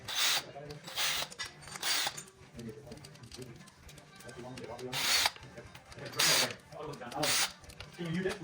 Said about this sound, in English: I got that ratcheting 3/4 wrench to take it out.